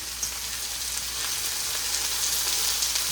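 Onions and peppers sizzle steadily in a hot pan beside cooking burgers and stir-fried cabbage, a continuous close, even crackle with no voices.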